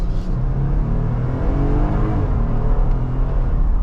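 A 2022 Jeep Wrangler's engine, paired with an 8-speed automatic transmission, rumbles and revs from inside the cabin, its loud, steady drone rising slightly as it downshifts, with no speech.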